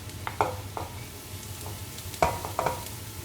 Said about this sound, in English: So you fry the shallot until it is like a bit soft. Then you add in the chopped garlic.